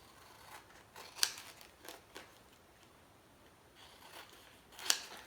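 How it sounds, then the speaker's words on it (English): Scissors trim a small stencil piece for glass etching: quiet snips and paper rustles, with two sharper distinct cuts, and no talking. "Just cut a piece off here. Burnish that down, and I'm going to trim."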